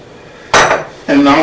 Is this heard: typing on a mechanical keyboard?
no